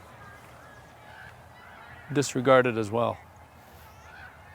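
Crows caw in a short burst of several harsh, honking calls during a fight with a smaller bird at an outdoor high school softball game, with a voice talking briefly over the calls.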